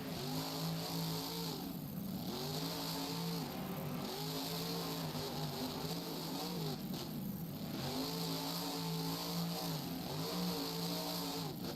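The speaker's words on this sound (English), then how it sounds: "Both trucks gunning it." Racing trucks rev hard at a start in Las Vegas, Nevada, loud engines climbing through repeated gear-shift cycles, a sustained roaring pattern that rises and drops about every two seconds.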